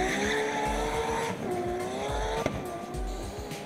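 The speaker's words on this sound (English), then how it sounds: "The ferocious, tar-tearing launch of this wild skyline." A wild Nissan Skyline race car launches hard at the Simola hillclimb, its engine roaring loudly up through the revs with tyre noise and a sharp crackle partway through.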